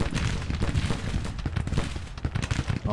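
Rapid bursts of American Civil War rifle fire and booming cannon shots in a strategy video game crackle continuously, overlapping in an irregular barrage with no talking.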